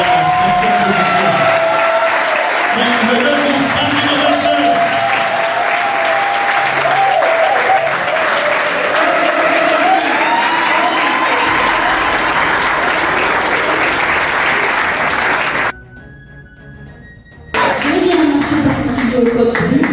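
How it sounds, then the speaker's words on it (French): Loud, dense applause and cheering fill a hall at the Hotuba Challenge semi-final in Douala for Ngaïno Champlain's fifth place, sustained for about fifteen seconds before a brief drop and a return of clapping and crowd noise. "Je voudrais que vous applaudissiez pour Ngaïno Champlain pour la 5e position."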